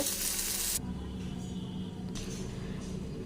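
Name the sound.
kakrol (spiny gourd) with coconut frying in a pan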